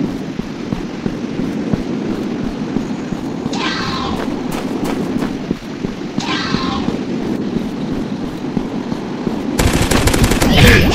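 Gunfire from the dinosaur-hunting video game Dinosaurs Hunter: a steady stream of game shots and rumbling effects over dense background ambience, with sharper bursts near the end.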